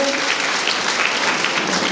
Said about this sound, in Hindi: आपका भी जोरदार तालियों से स्वागत करेंगे